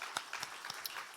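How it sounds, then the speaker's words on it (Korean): A church congregation at a Sunday morning worship service gives a short, sparse round of clapping, with a few distinct claps standing out over a quiet, thin patter. "박수하겠습니다"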